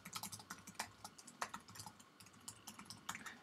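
Quick, steady keystrokes patter on a computer keyboard, a close, fairly quiet run of light clicks with no talking.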